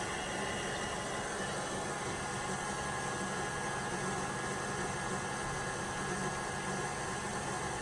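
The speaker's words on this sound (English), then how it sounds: "While the heavy whipping cream is whisking" A KitchenAid stand mixer with the whisk attachment beats heavy whipping cream, giving a steady, even motor whir with a broad hiss that holds at the same level throughout, with no talking.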